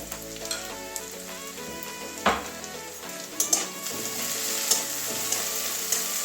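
Onion frying in oil with salt: a steady close sizzle with occasional sharp clinks and scrapes of stirring, and no voices.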